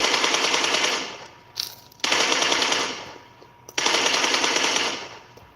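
Loud sustained automatic gunfire from a video game, three long bursts separated by short pauses.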